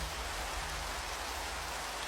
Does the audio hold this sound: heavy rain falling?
yes